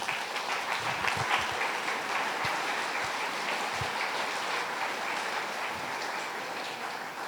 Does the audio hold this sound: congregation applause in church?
yes